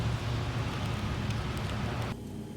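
Steady rain falls at night in the low 40s, a dense even hiss of drops that runs close and constant before dropping suddenly quieter near the end.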